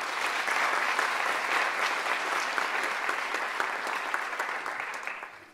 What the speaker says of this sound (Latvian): Vēlreiz ar aplausiem.